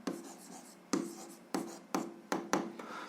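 Pen strokes on paper while an algebra equation is written out, a series of short sharp scratches and taps in an uneven rhythm, close and fairly quiet, with no talking.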